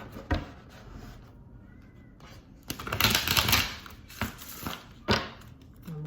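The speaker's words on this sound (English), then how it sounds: "Let me do a quick shuffle." Tarot cards being shuffled by hand at close range, a run of papery riffles and taps with quieter pauses between, no talking.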